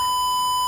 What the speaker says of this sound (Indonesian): buzzer berbunyi dan lampu menyala